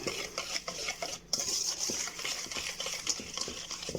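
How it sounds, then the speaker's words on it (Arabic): A utensil stirs sugar in a bowl with soft, continuous scraping and light clinks against the side. The sound is close, fairly quiet and steady, with no voices. "هنزل بالسكر وافضل اقلب لغايه ما السكر يدوب وما اشوفوش خالص في الطبق"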